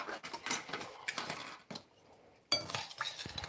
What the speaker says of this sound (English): we're going to just whisk it up like that